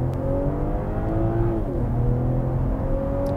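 A 2023 BMW M340i Touring with a six-cylinder engine accelerating hard, heard as a continuous rising engine drone with a brief shift dip midway, steady and fairly loud from inside the car.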